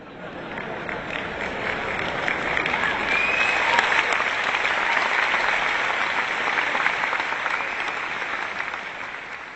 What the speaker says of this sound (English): The sons are clapping